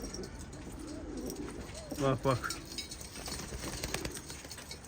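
A pigeon coos softly in a short rolling burst, close by, with someone talking quietly before and after.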